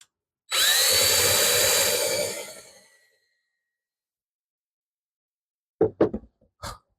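A power drill whines loudly for about two seconds as it bores a pilot hole into wood, then winds down, followed by a few soft knocks and a sigh.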